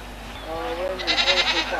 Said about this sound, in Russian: Такой вот маленький козлик.